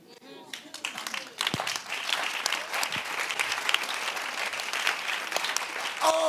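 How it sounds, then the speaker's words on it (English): A church congregation bursts into sustained clapping during a preacher's sermon on a fasting day, dense and steady for several seconds, with a voice calling out near the start and end. "look at the way they are clapping"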